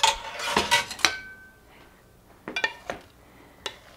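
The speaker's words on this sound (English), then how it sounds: "let me mix all these ingredients together" A spoon scrapes and clinks against a bowl while faux ceviche ingredients are mixed, a few sharp bursts of knocks, then a pause and a second cluster of clatters.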